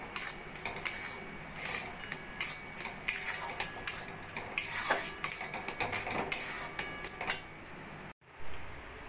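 Semolina halwa with cardamom, raisins, almonds and cashews stirred in a pan makes a fast, busy run of metal spoon scrapes and clinks, close and quiet, ending in a brief gap and a final soft stroke.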